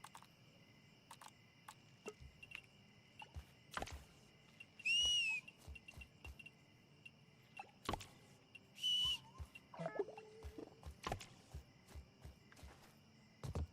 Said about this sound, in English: can we stop whistling just because I'm doing that?